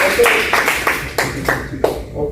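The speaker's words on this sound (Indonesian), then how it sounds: "Tepuk tangan dulu." A classroom of students claps for a classmate, a short ragged burst of hand claps with several sharp accents over about two seconds, fading toward the end.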